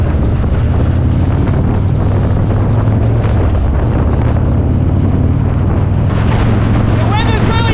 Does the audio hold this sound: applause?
no